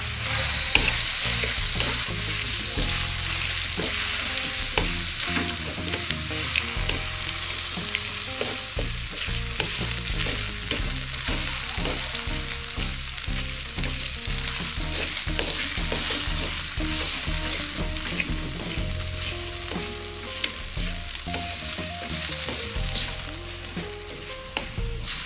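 Indomie noodles with chicken, cabbage and bean sprouts stirred in a pan, producing a loud, unbroken sizzle with continuous rhythmic scraping and tossing of a spatula close by for the whole stretch, with no voices.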